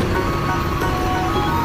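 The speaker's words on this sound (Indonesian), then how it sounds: "Kita lihat perjalanan mobil off-road untuk sampai ke pemotongan kayu" An off-road car drives toward a remote lumber cutting site, its engine giving a steady, loud rumble and road noise throughout, close to the listener, with no talk.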